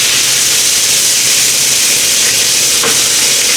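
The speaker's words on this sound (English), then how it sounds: "I try to stir this up" Garlic butter beef bites sizzle loudly in a pan, a dense constant hiss of frying close up, with one brief scrape of stirring near the end.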